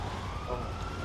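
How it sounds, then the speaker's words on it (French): A police-style siren wails from a vehicle in the video game GTA V, a brief, fairly faint tone over a dense rumble of traffic and engine noise. "il y a le bruit d'une sirène là"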